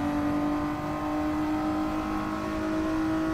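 A Toyota Alphard minivan in Gran Turismo 7 with its engine held high in the revs, a steady, loud droning whine with strong tonal harmonics and no pause or gear change across a few seconds.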